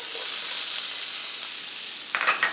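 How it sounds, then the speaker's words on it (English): Diced white onion sizzles steadily in hot bacon grease in a skillet, a continuous bright frying hiss with a few louder crackles near the end. "Now my onions have been sauteing for about 2 minutes."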